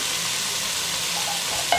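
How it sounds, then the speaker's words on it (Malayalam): Oil starting to bubble around Chinese potatoes (koorka) in a covered pan on low flame, a steady soft fizzing sizzle throughout with a faint clink near the end, no voices. "കണ്ടോ സൈഡിൽ എണ്ണയൊക്കെ ഒന്ന് തിളച്ച് തുടങ്ങുന്നുണ്ട്"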